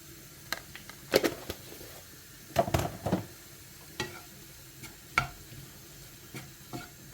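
Broccoli stirred in a pan with turmeric and Kashmiri chili powder, scattered scraping and knocking strokes of a spoon against the pan over a faint, quiet sizzle.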